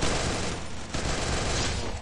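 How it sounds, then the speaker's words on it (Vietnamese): Dense gunfire from the Free Fire battle royale game, with a rapid burst of shots running continuously for about two seconds, loud and close with no talking. "Ok, bật Alok lên xong bắn, xong bắn thì nó chỉ nhanh hơn, khá là ngon"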